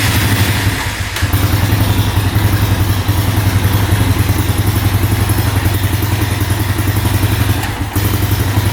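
A Honda ATV that cranks but won't run fires with the choke off, a loud, close, steady rough engine chug and clatter running throughout, with no talk.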